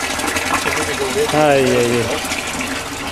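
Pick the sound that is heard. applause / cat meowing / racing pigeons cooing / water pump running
water pump running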